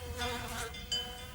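Wasps foraging on flowers make a faint, steady, wavering buzz of wings that rises and falls slightly over a moment, with no other sounds.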